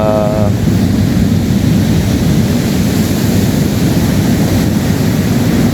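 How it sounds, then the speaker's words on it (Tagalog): Loud, steady roar of strong sea waves breaking on the shore in northern Luzon, mixed with heavy wind rushing across the microphone, continuous throughout. "nandito na tayo ngayon sa tabi ng dagat. Malakas ang alon."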